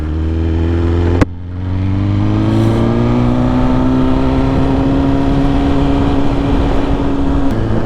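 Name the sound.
motorcycle engine revving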